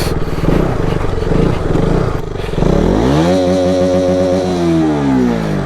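A motorcycle labours on a snowy road, its engine droning loud and close with a rough, clattering tone before rising into a strained, revving whine as it fails to climb.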